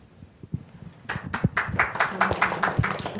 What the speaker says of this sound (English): Sorry, I cut off the applause for Christina.